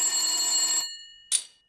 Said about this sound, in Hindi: तभी फोन की घंटी बजती है।